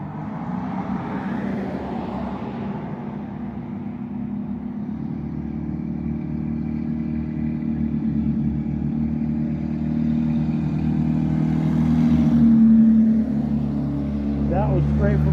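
A diesel truck runs with a deep, rumbling engine that rises as it revs and pulls away, loud and sustained with some clatter, while people talk over it.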